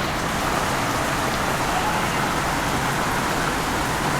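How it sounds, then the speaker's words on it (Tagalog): Heavy rain pours down steadily, a dense, constant hiss of drops close by with no pauses. "Nakisilong muna ako dito kasi wala, ang lakas ng ulan."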